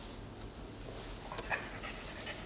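A Great Dane Lab mix puppy, about three and a half months old, pants softly with faint whimpers in a rescue setting, quiet and close against low background noise.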